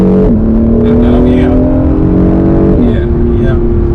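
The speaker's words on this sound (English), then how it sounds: "the sound of that engine back there, it just lets you know what's happening" A loud Acura NSX Hybrid engine drones and revs up, its pitch climbing then dropping with gear changes, close and continuous.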